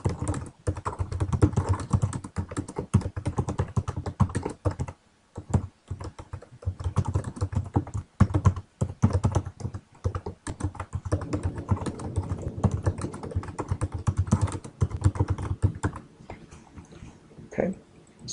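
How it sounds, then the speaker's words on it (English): Fingers type steadily on a computer keyboard in a quick, uneven patter of close key clicks that runs nearly throughout, broken by one brief pause, with faint background sound underneath. "So you can either type in the qualifications"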